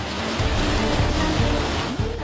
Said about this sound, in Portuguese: nesta imagem a onda invade a rua